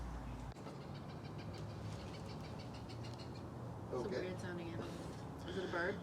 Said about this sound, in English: that bird in the background, but he's laughing at my content.